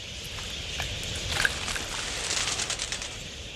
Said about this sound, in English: Flock pigeons share the budgerigar's roving and social nature.